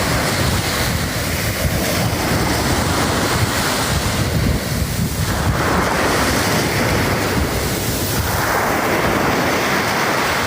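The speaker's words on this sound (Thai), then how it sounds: "ตรงนี้เรียกว่าทะเลครับ" Sea waves break on the shore in a steady roar that surges and recedes, loud and close, with wind buffeting the microphone and no voices.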